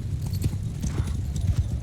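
Horse hooves clip-clop at a quick, steady rhythm as a horse is ridden in the Mount & Blade II Bannerlord video game, close and continuous over low battle rumble.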